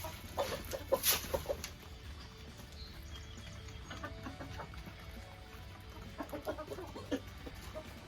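Chickens in a covered pen cluck softly at moderate distance, scattered calls coming in short clusters over a low steady background hum.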